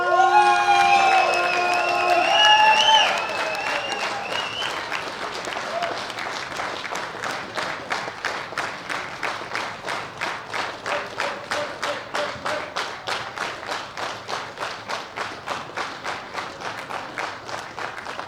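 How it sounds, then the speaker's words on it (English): Audience at the 2016 World Bench Press Championships in the open women's 47 to 63 kg class breaks into applause and cheers for a German lifter, then settles into a steady rhythmic clapping in unison that continues throughout. "A big round of applause for Fiona Gundala Solar von Wagner."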